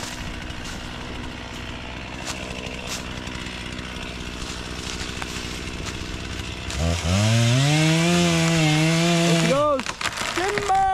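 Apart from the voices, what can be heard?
chainsaw cutting down trees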